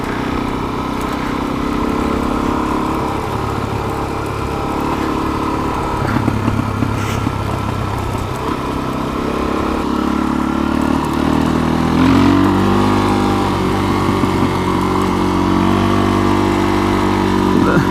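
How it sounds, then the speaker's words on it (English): A Suzuki DRZ400SM dual-sport motorcycle puttering along in first gear at about 25 mph, its steady single-cylinder engine drone continuous and close over the full stretch, with someone talking over it. "I'm in first gear. 25 miles an hour, just putting."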